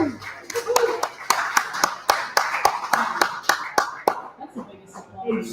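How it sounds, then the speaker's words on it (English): Scattered hand clapping from a small audience at a live Buffalo fan show greets a new intern, with distinct individual claps in an uneven rhythm that thin out toward the end. "How about a big round of applause for our new intern"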